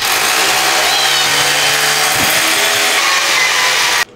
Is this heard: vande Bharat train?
no